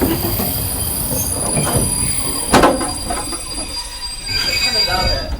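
Metal wheels of an overnight train in Bulgaria squeal in sustained high whines over a rumbling carriage, with a sharp screech mid-way and faint talk in the background.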